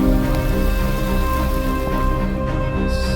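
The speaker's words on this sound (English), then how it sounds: "as it's pouring down here. So there's lightning and thunder" Heavy rain pouring down outdoors during a thunderstorm near a riverbank, a dense, steady loud wash of drops drumming on surfaces throughout with no let-up.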